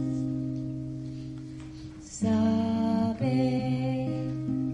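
A single voice recreates a Buddhist monastics' street chant from Burma, 2008, singing sustained, evenly pitched syllables in a slow, steady line that grows louder partway through.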